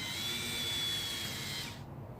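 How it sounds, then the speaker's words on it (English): A cordless drill whirs steadily at high speed as its battery dies, then abruptly winds down and stops, leaving a faint hum. "the drill I have that I was using to, drill out the holes, the battery on it died"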